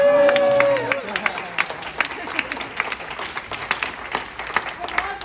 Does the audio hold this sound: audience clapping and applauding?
yes